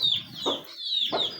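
Hens and chicks cluck in a pen, with a few soft, close clucks and thin high chick peeps over about a second and a half, no talk.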